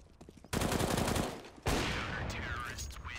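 FAMAS rifle fire in Counter-Strike: Global Offensive: two sharp, close bursts of rapid automatic shots, each trailing into a ringing tail, with a quiet voice under the first.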